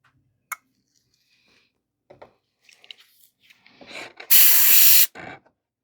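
An airbrush hisses in one loud, steady burst of just under a second while spraying paint on an Iron Man Mk85 model, preceded by scattered small clicks and handling noises.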